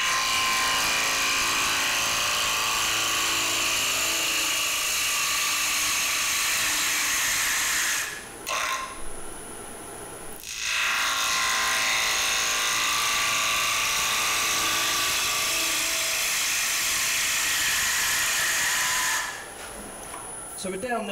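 A wood lathe spins a square wooden bowl, giving a steady high whirring hum with a tool scraping against the spinning workpiece, interrupted by two brief drops where the tool pulls away, heard close with no talk.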